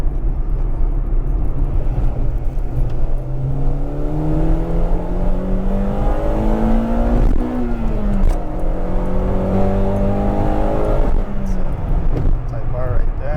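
A 1998 Acura Integra Type R accelerating hard, its engine note climbing steadily through repeated pulls with rising tones over a constant loud interior roar, recorded from inside the car.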